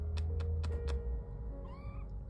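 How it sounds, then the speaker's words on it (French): Six young tabby kittens make a short meow that stands out near the end. Soft clicks and shuffling come before it, over a low indoor hum. "Alors, il y en a 6 petits chatons."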